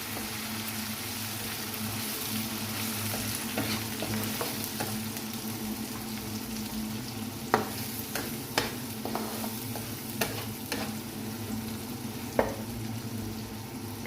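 Biryani masala with green chillies being stirred in a pan of hot oil, a steady close sizzle with scattered sharp scrapes and clinks of the spoon against the pan, no talking.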